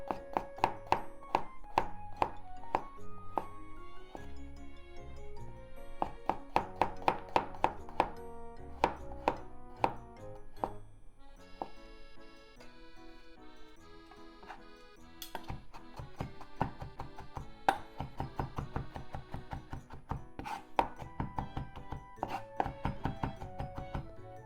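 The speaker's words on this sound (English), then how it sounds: "So garlic. I keep them frozen, so it's still frozen, but never mind. Let's just mince it." A knife mincing frozen garlic on a cutting board gives rapid bursts of crisp, close chopping taps, repeated in quick rhythmic runs separated by brief pauses.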